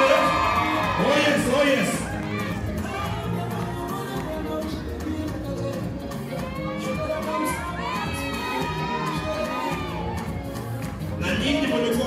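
A wedding crowd cheers and whoops loudly for the bridal team during a procession, with children's shouts and overlapping voices in a sustained roar. A speaker's voice carries over it.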